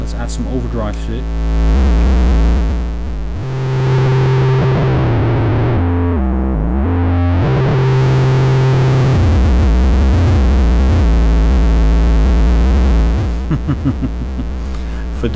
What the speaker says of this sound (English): this is what distortion sounds like